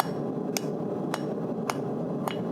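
Hammer blows forging quarter-inch round stock on an anvil, four sharp metallic strikes evenly spaced about half a second apart over a steady background hum.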